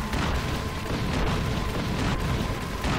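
A dense, rumbling blast roars continuously in Batman: Arkham Origins, loud and sustained for a few seconds without any talk over it.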